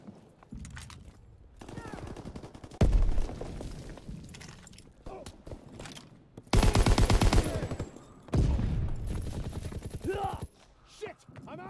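Call of Duty WWII battle with heavy gunfire: dense bursts of rapid shots in loud clusters, broken by quieter gaps with game voices talking in between.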